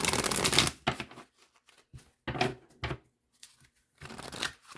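Tarot cards are shuffled close by in several quick riffling bursts, crisp papery flutters separated by short pauses and soft handling sounds.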